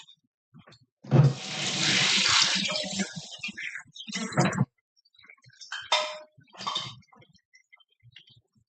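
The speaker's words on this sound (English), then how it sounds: "I gotta rinse my hands off." Tap water runs steadily over hands at a kitchen sink for about three seconds, fairly close and loud, followed by quieter clinks and handling sounds with brief speech.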